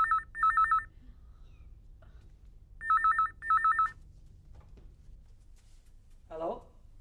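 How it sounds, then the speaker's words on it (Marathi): A telephone rings for an incoming call in a Marathi stage play. Two bursts of clear electronic double-trill rings sound close and loud, then a brief voice is heard near the end. "हा क्षमा अगं क्षमाचा फोन आहे"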